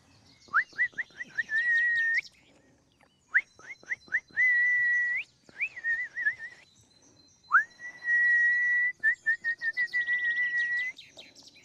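A person whistling in a Mayotte mangrove to coax an animal out, repeated short rising whistles and longer held tones in quick bursts, clear and close against quiet surroundings.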